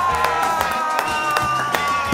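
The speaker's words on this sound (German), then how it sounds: "Macht einen riesengroßen Applaus" Studio audience clapping and cheering on a German comedy quiz show as a guest comes on, brisk clapping with a crowd murmur and musical tones underneath.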